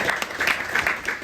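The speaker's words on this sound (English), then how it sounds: "Maybe let's give a round of applause." A brief burst of audience applause at a real estate networking event, many hands clapping together in a dense, moderately loud wash with slight rhythmic swells.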